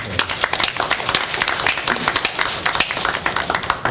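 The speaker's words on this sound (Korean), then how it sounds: "우리 나지막히 한번 박수로 환영했으면 좋겠습니다" A church congregation at a Sunday worship service gives a soft, welcoming round of applause, a steady patter of many hands filling the sanctuary throughout with some murmured voices mixed in.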